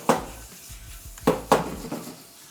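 Garlic butter shrimp with parsley and dill tossed in a metal pan, giving several sharp clanks and scrapes of food and pan in quick succession, with faint sizzling between.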